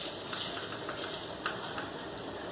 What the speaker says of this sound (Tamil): இது வந்து நல்லா இப்போ கொதிச்சுட்டு இருக்குது.